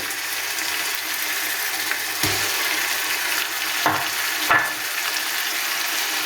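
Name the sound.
frying spices with mustard paste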